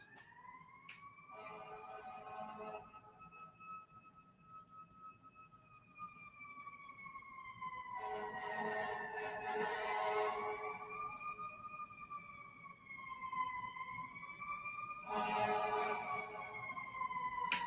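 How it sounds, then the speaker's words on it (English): A distant siren wails in long rising and falling tones, fading in and out over steady background hum. "Oh, I hear the siren finally."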